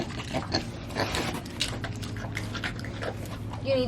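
Pigs grunt and oink while eating eggs nearby, with snuffling and chewing noises in short irregular bursts, and a person speaks intermittently over them.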